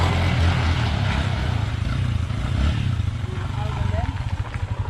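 An Exciter motorcycle engine revs under a power test, a loud, close, rough rumble that throbs in uneven pulses and picks up toward the end.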